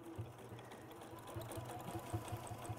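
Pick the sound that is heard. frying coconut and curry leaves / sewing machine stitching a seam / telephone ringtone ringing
sewing machine stitching a seam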